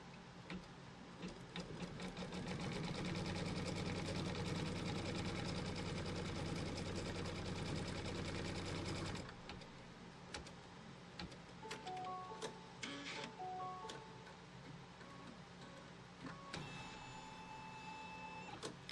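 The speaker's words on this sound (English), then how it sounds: "Let's go ahead and stitch the tack down line." An embroidery machine stitches a tack-down line on a quilt block held in a hoop, giving a steady, fast mechanical whirring and clatter for several seconds, then stopping and leaving scattered clicks and short whirs.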